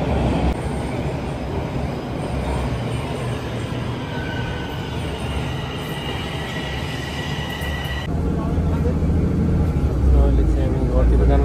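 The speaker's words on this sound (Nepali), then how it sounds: "ट्रेन त पारि पो आयो त यार." A train pulls into a Toronto station, its loud rumbling roar and rail noise building steadily with a thin wheel squeal, heard up close on the platform while a person talks over it.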